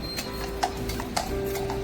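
A Royal Guard's horse, restless and moving about, its hooves clopping in a few sharp, separate strikes over a steady outdoor background hum.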